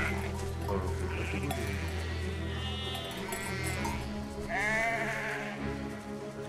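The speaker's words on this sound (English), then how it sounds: "Bad sheep, keep moving." Sheep bleat in the video game Valiant Hearts, several wavering bleats in overlapping succession over a steady musical background, fairly close and clear.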